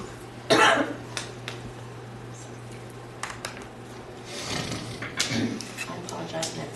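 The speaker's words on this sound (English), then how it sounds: "I apologize in advance for my cough" A single near, sharp cough from a person at a city council meeting, followed by a few faint knocks and murmurs over a steady low room hum.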